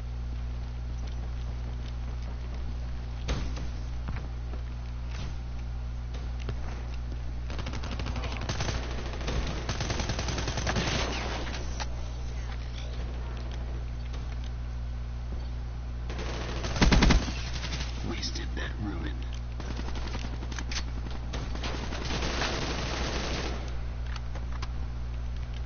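Bursts of rapid automatic gunfire from a first-person shooter game rattle out in several clusters over a steady low hum, some volleys sharp and close, others fainter, with no talking.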